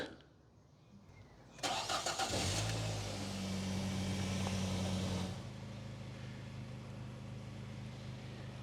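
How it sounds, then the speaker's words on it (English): A Nissan Primera P12 engine cranks and catches at close range, then settles into a steady, throaty idle with a low exhaust rumble from an exhaust repaired with gun gum bandage. "I reckon that the exhaust sounds a lot better."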